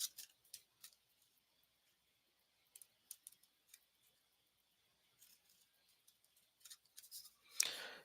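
Scissors snip through paper while a paper dress cutout is trimmed for papercraft, giving quiet, close, scattered snips in small groups separated by near silence.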